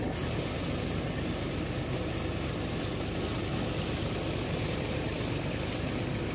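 Water pouring from a tractor-driven pump into a farm canal, a loud, dense, continuous rushing wash with an engine-like drone underneath, steady and close.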